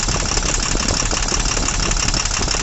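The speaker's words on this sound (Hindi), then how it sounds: "मैं जैसे इंजेक्टर खोलता हूँ तो इंजन का साउंड चेंज हो जा रहा है, यानी वो इंजेक्टर काम कर रहा है।" A BS4 diesel engine runs steadily up close with a dense, rough idle and knocking rattle, its tone shifting slightly as an injector line is cracked open; no talking.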